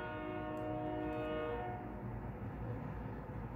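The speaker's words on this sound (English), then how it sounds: "there's a train going by." A loud train horn blares steadily, then cuts off as the heavy rumble of a passing train continues close by.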